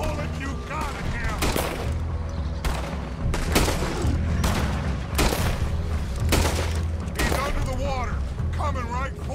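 Repeated gunshots fired at a crocodile in Red Dead Redemption 2, loud, close, irregular cracks spaced across the scene, mixed with mechanical clicks and splashing, while people talk and shout over them.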